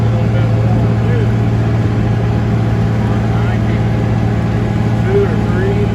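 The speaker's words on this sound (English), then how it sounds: "my tractor's been running a little bit warm too." A farm tractor engine, running a little warm while working hay with a disc mower, drones steadily and loudly throughout with a constant low hum.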